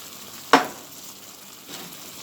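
A Scotch bonnet pepper drops into a sizzling canned mackerel and tomato sauce, a single sharp splash-hiss followed by a low simmering crackle and a brief stir.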